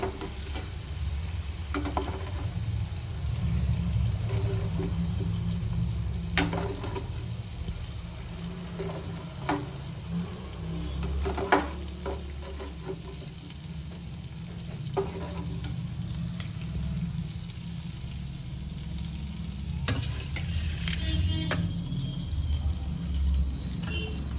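Green peas fry in a pan for aloo matar, a steady close sizzle running throughout with occasional scraping stirs and light clicks of a utensil, no voices.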